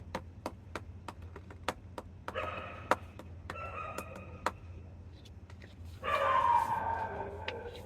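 Several dogs bark in short, faint yelps amid a steady run of sharp clicking knocks, with a louder, longer bark near the end.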